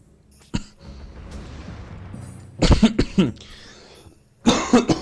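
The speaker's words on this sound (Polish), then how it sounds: "Kaszle." A few sharp, raspy coughs ring out in short bursts, separated by quiet pauses, close and fairly loud.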